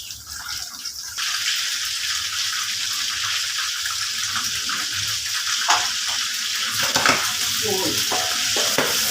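Chicken and liver pieces deep-fry in a pan of hot oil with garlic and pepper, a dense, loud bubbling sizzle that swells after a second and carries on steadily with occasional stirring clinks.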